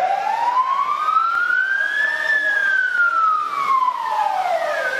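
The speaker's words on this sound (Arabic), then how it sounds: "وصول سيارات الإسعاف لنقل المصابين" A loud, close ambulance siren wailing during a crisis-response drill, its pitch sweeping slowly up and then back down in a long continuous tone.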